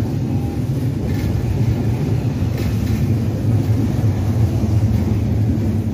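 A passenger train rumbles steadily as it runs into the depot near Cibatu, a continuous low mechanical roar with rattling, heard close and fairly loud.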